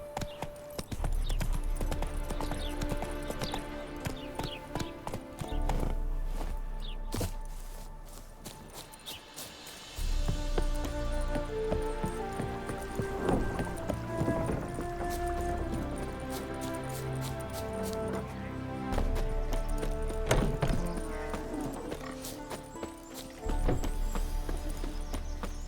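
Horse hooves clip-clop steadily at a gallop in The Witcher 3, loud and continuous over a dense layer of game music and ambience throughout.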